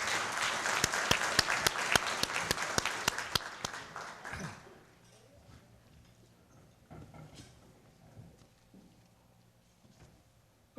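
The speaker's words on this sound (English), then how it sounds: "let's give another round of applause to" Applause from an audience at a city employee service awards ceremony, a loud burst of many hands clapping for about four seconds that quickly fades, leaving scattered faint claps and soft room noise.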